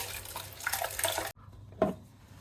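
Water rushing from a toilet flush and into the cistern, a short close burst of flowing water that cuts off abruptly, then a faint trickle and a brief splash.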